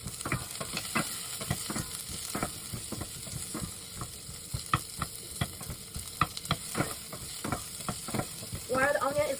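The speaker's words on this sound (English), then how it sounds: "While the onion is cooking" Onion frying in a pan over medium heat, a steady close sizzle punctuated by scraping stirs and clicks, with no talking.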